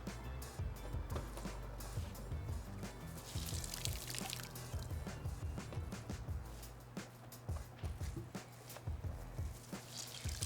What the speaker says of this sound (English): now we're gonna get water out of the paper by pressing down with force using the sponge